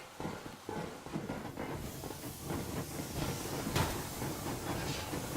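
The steam train Yermak gets under way in the video game Metro Exodus, with hissing steam and a steady rail rumble and clatter building into continuous motion, heard alone at moderate loudness.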